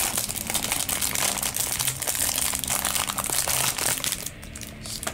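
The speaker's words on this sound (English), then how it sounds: "Just unwrap it a little bit." Plastic packaging is unwrapped from a Figma SP012 Black Rock Shooter action figure, a loud, continuous close-up crinkling and crumpling that eases off briefly near the end.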